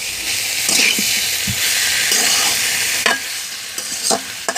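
Chicken with salt and spices being stirred in a pot, a loud continuous sizzle with scraping spoon strokes that grow more frequent toward the end, close up with no voices.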